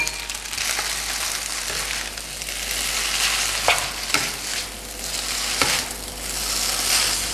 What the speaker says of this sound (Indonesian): Kita aduk-aduk ya, ratain.